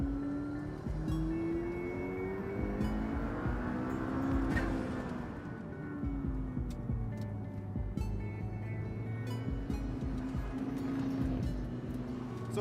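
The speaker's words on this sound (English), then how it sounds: "This is the P1 on a track." McLaren P1 supercar on a race track, the engine droning and rising and falling in pitch through gear changes, heard steadily from close by for several seconds.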